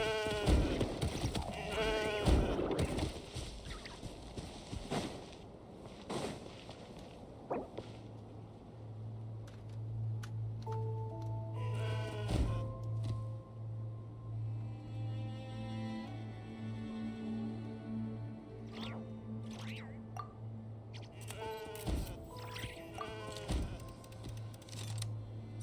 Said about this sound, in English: Mountain goats.